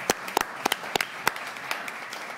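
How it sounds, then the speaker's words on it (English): Scattered applause from a small group at a city hall committee meeting, a handful of distinct claps that soon thin out and fade. "Big round of applause, actually."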